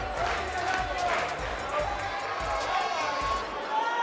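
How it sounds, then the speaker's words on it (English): Video game arena crowd from WWE 2K18 before a women's wrestling match, a steady roar of cheering and babble filling the whole stretch at even loudness. "And what about this crowd reaction, guys?"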